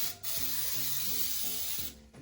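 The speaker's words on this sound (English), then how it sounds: "I prefer to spray my plastic wrap." Short bursts of baker's spray hiss onto plastic wrap, close and fairly soft. One quick spritz comes at the start and another at the end, with a brief rustle between them.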